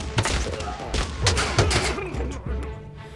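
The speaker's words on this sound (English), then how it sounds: "he has two double-barrel shotguns" A battle simulator game plays a quick, loud cluster of booming double-barrel shotgun blasts with heavy thuds and crashes over about three seconds, mixed with some indistinct vocal sound.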